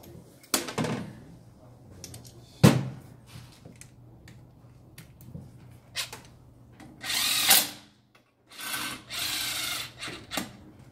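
Bolts being tightened on a Nissan CVT transmission in a workshop, with a series of short bursts of a power driver or ratchet spread across the clip, a few longer whirring runs near the end, and no talk.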